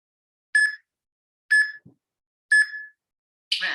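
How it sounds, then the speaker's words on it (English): An electronic exercise timer sounds three evenly spaced short beeps about a second apart, clear against silence, followed by a brighter, longer tone marking the end of a set in a chair exercise session. "You're going to hear another beep."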